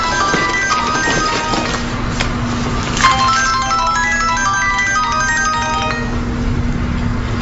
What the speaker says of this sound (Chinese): 不好意思，我接个电话。